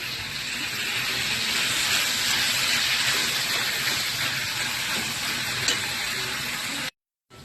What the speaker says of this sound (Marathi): हे सगळं आता परतून घ्यायचं अजून थोडंसं